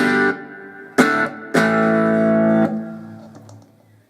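Distorted electric guitar chords through a Blackstar HT1R amp, gain near 9 o'clock and reverb at half: three strummed hits in quick succession, the last ringing out, then a soft reverb tail fading away.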